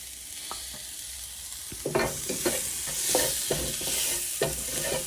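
Ginger, garlic and tomatoes fry over low-medium heat in a pan, a steady sizzle broken by repeated scraping knocks of a spoon stirring, close and clear with no talk.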